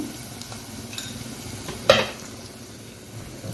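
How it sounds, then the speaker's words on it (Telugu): Onions sizzle in a pan after salt is added, a steady frying crackle broken by one sharp stirring clatter midway. "ఇప్పుడు ఆనియన్ త్వరగా వేగడానికి సాల్ట్ వేసుకుంటున్నా"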